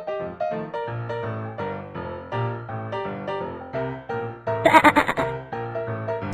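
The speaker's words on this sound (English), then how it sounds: "Sheep." A sheep bleats in a children's farm game, one bright bleat near the end rising over steady, bouncy game music that plays throughout.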